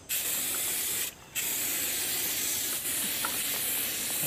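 A loud, continuous aerosol insecticide spray hiss against mosquitoes, close by, with one brief pause before it resumes steadily.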